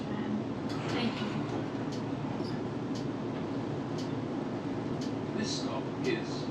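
Melbourne tram in motion, a steady low rumble of wheels and carriage interior noise with faint squeaks and clicks, continuous and moderately quiet.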